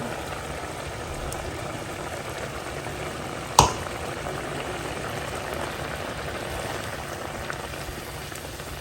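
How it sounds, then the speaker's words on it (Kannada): Cauliflower gravy seasoned with sambar powder simmers in a pot, giving a steady soft bubbling hiss throughout with a single sharp knock midway, close and with no speech. "ಈಗ ಚೆನ್ನಾಗಿದ್ದು ಸ್ವಲ್ಪ ಕುದಿ ಬರಲಿ"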